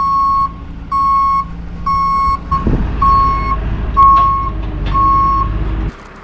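Loud, evenly spaced reversing beeps from a rollback tow truck, with the truck's diesel engine rumbling underneath and a few clanks partway through.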